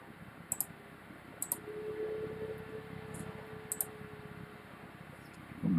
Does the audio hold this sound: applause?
no